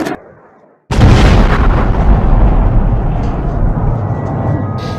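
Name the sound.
missile explosions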